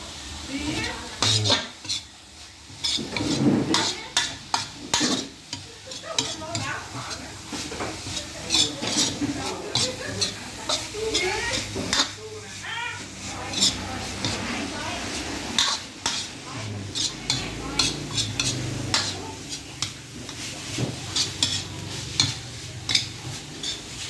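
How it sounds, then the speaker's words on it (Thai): Holy basil stir-fried dry in a pan, with continuous scraping and clattering of a metal spatula against the pan over a low sizzle, busy and close throughout. "ผัดให้กะเพรา แห้งๆนะครับผม"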